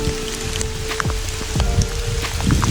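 Steady rain pours down on surfaces outdoors in a national park, loud and continuous, with scattered drops and drips standing out from the dense hiss.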